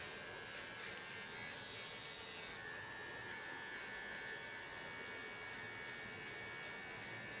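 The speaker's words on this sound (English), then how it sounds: "And a small clipper." A small electric clipper trims the hair of a wig with a steady, faint, even buzz that runs unbroken throughout.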